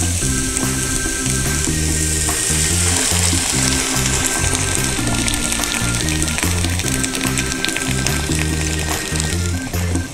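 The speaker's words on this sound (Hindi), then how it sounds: "अब मैं इसमें 5 कप पानी डालूंगी।" Five cups of water poured into a hot pot of sautéed vegetables for hot and sour soup, a continuous loud splashing and sizzling hiss up close, with steady background music.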